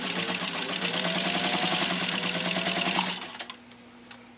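A Singer 15-91 sewing machine drives through fourteen layers of canvas binding tape with a fast, steady mechanical chatter for about three seconds, then winds down and stops, leaving a faint hum and one small click.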